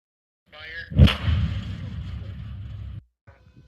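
A stoichiometric hydrogen-air mixture detonates inside a 2 meter test chamber, giving a sharp loud bang followed by a rumbling roar that holds for about two seconds, then cuts off abruptly.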